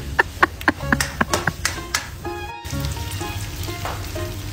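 Shredded boiled chicken with bones and ginger sautéing in a pan: a run of sharp spatula taps and scrapes over a steady sizzle, which continues evenly afterward.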